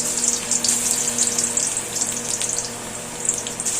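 Balls of yam (karunaikizhangu) kola dough fry in hot oil, giving off a steady, dense sizzle with fine crackling that carries on evenly from start to finish, with no voices.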